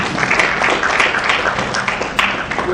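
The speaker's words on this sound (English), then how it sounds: "Round of applause for Basharoom." Applause at an anniversary lecture, as an audience claps for a chairman and chartered accountant being introduced; a steady, dense wash of clapping fills the room without pause.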